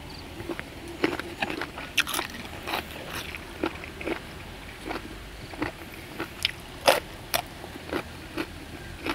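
Close-up chewing of crunchy squid, with repeated crisp, irregular crunches and bites and no talking.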